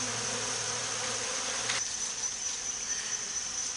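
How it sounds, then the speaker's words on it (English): Bees from a rogue hive buzz steadily and close by, a dense droning hum that continues throughout without any voices. "the bees are flying all over me here"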